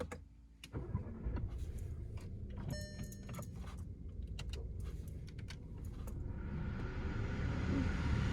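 A Škoda Superb starts off and drives up a hill road, engine hum rising steadily, with a few clicks and rattles inside the cabin early on and the motor growing louder toward the end.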